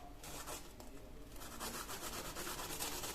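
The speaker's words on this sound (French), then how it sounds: "Je prends l'ail et je le frotte." A garlic clove is rubbed over warm bread in quiet, close, rhythmic rasping strokes, soft and scratchy, with no voices.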